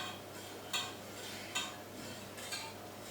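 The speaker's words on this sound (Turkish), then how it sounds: "Hala karıştırıyorum. Çünkü dibine tutmasın." Wire whisk stirring instant chocolate pudding in a pot on the stove, quiet steady scraping with three sharper clinks against the metal at regular intervals.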